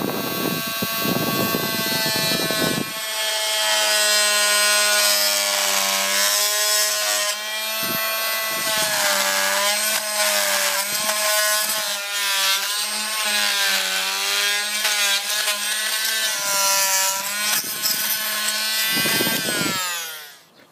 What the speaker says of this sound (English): I'm going to cheat a little bit and use my fine multi-tool, and then I will finish it off with a sander.